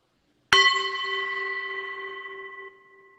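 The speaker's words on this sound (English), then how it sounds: "let's breathe on each chime" A single meditation chime is struck once, giving a bright metallic strike followed by a clear, steady ring that fades slowly over about two seconds, close and alone in an otherwise quiet room.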